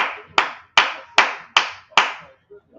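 Five loud, sharp hand claps in a steady rhythm, close by, with a brief pause after each one, from people gathered in an NFL locker room during the 2024 Draft.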